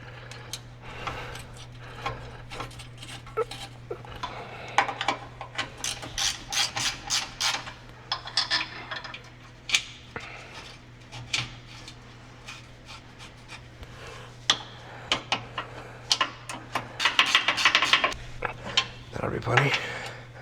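Ratchet tightening sway bar bushing bolts under a 2019 Ram 1500, with rapid clicking bursts and metallic tool clinks repeated over a steady low hum, close by and moderately loud, with no talk.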